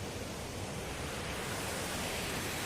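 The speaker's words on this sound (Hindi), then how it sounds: "छोटा सा झरना भी है।" A small waterfall at a summer bathing spot beside a water tank gives a steady, loud broadband rush of falling water, with no voices.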